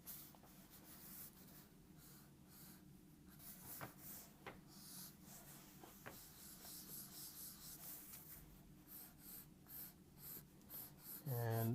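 A marker sketches and shades on the back of tracing paper, giving soft, close scratchy strokes and rubbing passes in an irregular rhythm, with a low-level background hum.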